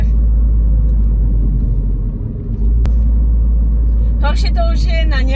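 A Mini Cooper S R56 with a 135 kW (184 PS) turbo engine is being driven, producing a loud, steady low rumble heard from close by. A voice joins briefly near the end.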